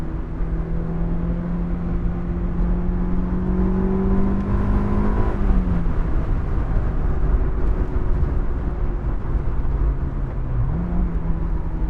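A Honda S2000 AP1 sports car drives with a steady engine drone from inside the cabin, its pitch climbing, then dropping sharply at each gear shift before pulling again.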